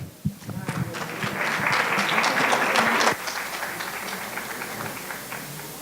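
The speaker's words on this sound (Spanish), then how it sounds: "Démosle la bienvenida con un fuerte aplauso" An audience at a university lecture applauds to welcome the speaker, a strong wash of many hands clapping that swells, holds for a few seconds, then drops off abruptly into quieter scattered clapping.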